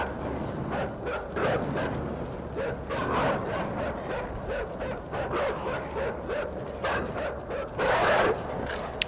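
Dogs in the video game INSIDE, yipping and barking repeatedly in a tense, busy scene, with a louder burst of barking near the end over steady background noise.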